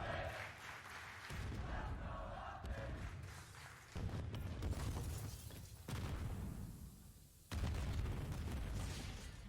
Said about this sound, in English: Just explosions all over the map as the utility thrust into it